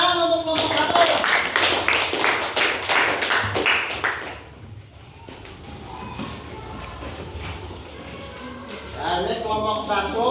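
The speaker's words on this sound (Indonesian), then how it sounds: "Tepuk tangan untuk kelompok 1" Classroom applause for a student group in a sixth-grade lesson, a burst of many hands clapping for about four seconds, then murmuring and shuffling, with a brief second round of claps near the end.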